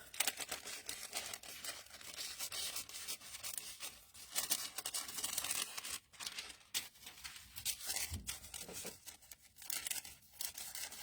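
Quiet, close crisp snipping and rustling of paper being trimmed with scissors, with irregular crinkles and scrapes in short bursts.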